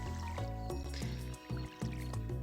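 Watering crops with a watering can in Stardew Valley: a rapid run of soft splashing pours, several in quick succession at an even rhythm, set over steady background game music with no talking.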